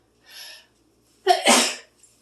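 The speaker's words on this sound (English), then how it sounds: "Every time black pepper makes you sneeze." A single loud sneeze set off by black pepper, preceded by a quick sharp inhale, then a moment of quiet.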